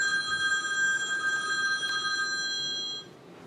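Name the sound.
telephone ringing in the audience before a theater show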